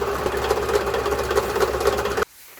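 A household sewing machine runs steadily while winding a bobbin, a close, even motor whir with rapid mechanical rattle that stops abruptly near the end.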